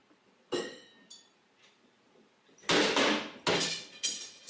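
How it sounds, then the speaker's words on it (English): Kitchen cabinets being broken, heard as loud, sharp bangs and crashes of wood with clinking and rattling in between, coming in several irregular bursts separated by quieter gaps. "He's breaking cabinets in his kitchen."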